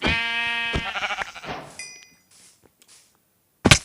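Sheep bleating in the video game Minecraft: a loud, harmonic bleat up front, then scattered quieter game noises and near silence before a brief sharp burst at the end.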